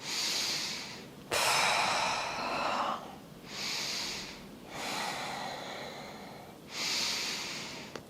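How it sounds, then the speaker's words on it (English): Slow deep breaths during a hatha yoga standing flow, about five long inhales and exhales in a steady rhythm, close and soft with no talk. "Deep breaths."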